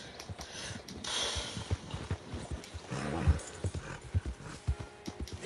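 A pre-order bonus horse in a video game trots and gallops with steady, distinct hoof clip-clops over a faint rumbling background, the hoofbeats close and regular.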